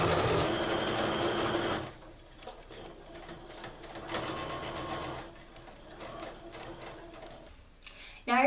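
A sewing machine stitches a quarter-inch seam along the sides of mittens cut from an upcycled sweater, a loud close whir in a short burst, then softer intermittent stitching and fabric handling.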